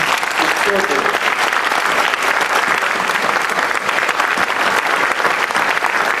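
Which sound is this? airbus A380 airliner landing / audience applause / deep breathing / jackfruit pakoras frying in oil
audience applause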